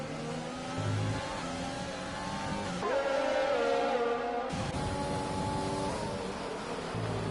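F2 race cars in a Dutch Grand Prix racing game scream past with high revving engines, one passing car sweeping close through the middle before the steady drone of the field continues.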